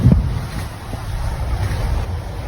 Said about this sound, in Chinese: 这边真的有那个海浪声越来越大了